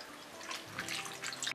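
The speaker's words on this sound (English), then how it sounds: "Add water" Water poured into a pot of vegetables to boil them for pizza, a steady close splashing and trickling pour lasting a second or so, no voices.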